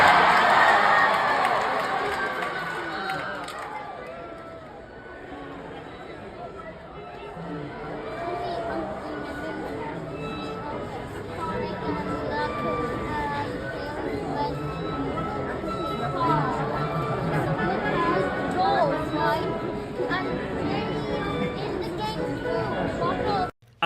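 A large concert audience at Sonic Symphony roars and cheers as the Sonic Adventure 2 set begins, a dense wall of crowd noise and chatter that stays loud and steady throughout.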